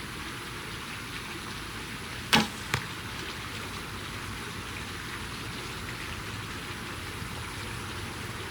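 An arrow with a light 115 head is loosed from a traditional bow, a sharp snap followed moments later by a second short crack, set against a steady rain-like outdoor hiss.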